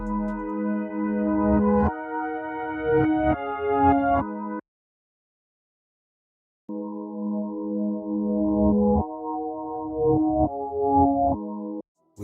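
Reversed, downsampled melodic samples for a dancehall and afrobeat beat in FL Studio play as two phrases of sustained, stepping harmonic notes, separated by a few seconds of silence, loud and alone with no talking.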